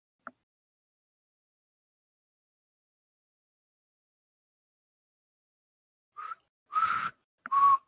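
A person whistles a few short tonal notes near the end, three brief bursts close to the microphone after a long stretch of silence.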